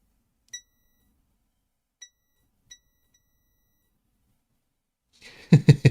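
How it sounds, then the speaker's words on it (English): Three short, faint electronic beeps spaced apart from a test instrument on an NES console repair bench, followed by a louder burst of clattering or rustling at the end. "I just like the sound of beeps"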